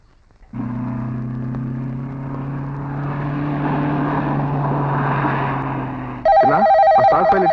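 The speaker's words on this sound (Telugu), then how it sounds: "అరే చిన్న నీకు ఫోన్ రా." A telephone bursts into a loud, close electronic ring near the end, following a long, steady low droning hum, with no one speaking.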